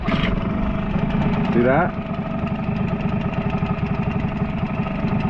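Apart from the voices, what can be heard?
HANGKAI 6HP two-stroke outboard motor starting and idling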